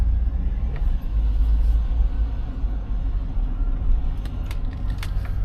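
A 1996 Chevrolet Impala on the road gives a steady low engine rumble from inside the cabin with the windows partly down, a constant drone under light road noise, with a few faint clicks near the end.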